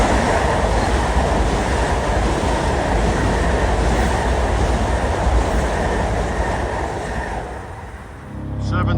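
An LIRR commuter train, Huntington to Grand Central, roars past at Queens Village in a steady, loud rumble with rail clatter for about eight seconds, then fades quickly as it clears.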